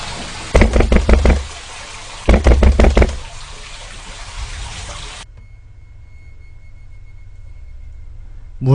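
Knocking on a front door as a horror radio story effect: two close, loud bursts of four or five quick raps each, separated by a pause, with a faint watery background that then cuts away.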